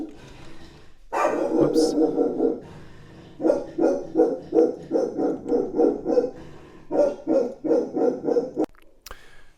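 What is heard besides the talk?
dog barking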